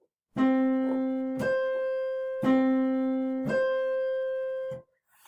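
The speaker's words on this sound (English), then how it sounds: "The octave would sound like this." Two pure electronic tones sound in turn, a lower sustained pitch followed by one an octave higher, the pair repeated twice, clean with no talking.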